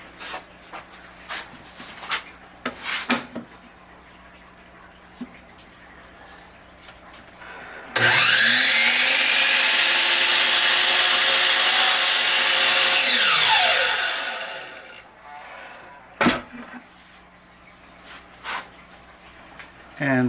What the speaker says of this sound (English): so I'm going to trim it one more time.